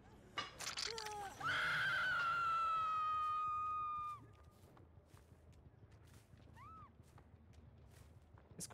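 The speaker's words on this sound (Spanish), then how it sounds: "Escuché como un gritito ahí por ahí" In a Ghostface video game, a loud, piercing scream holds for about three seconds, then fades to scattered footsteps and a faint second cry further off.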